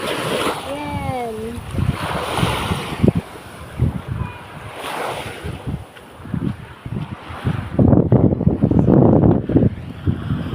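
Sea waves at a crowded summer beach wash in and break in irregular surges, close and fairly loud, with wind buffeting the microphone and people talking over them.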